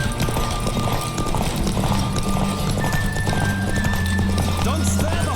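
Galloping horse hooves during a horse race in The Witcher 3, rapid continuous clip-clop with occasional whinnies, set against music and a low droning score.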